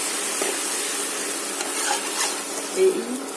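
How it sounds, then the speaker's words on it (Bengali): Papad frying in hot oil makes a continuous soft sizzle and bubbling hiss, with a few faint clinks near the end. No voice is heard. "এই পাঁপড়গুলোকে ভেজে নিচ্ছি"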